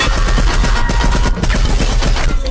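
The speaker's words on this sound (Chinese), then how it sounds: "然而正在这时，屋内却突然爆出一阵密集的子弹。" A sudden, dense burst of gunfire erupts inside a room in an action film, a loud, rapid, continuous volley of shots packed tightly together.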